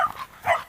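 Two short, deep barks from a bulldog, close by and moderately loud, separated by a brief pause.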